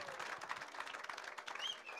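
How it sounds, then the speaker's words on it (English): An audience at a bass fishing competition weigh-in applauds steadily, a dense patter of many clapping hands throughout, with a faint whistle near the end. "Give them a nice round of applause as they come in to weigh what they brought to the scales today."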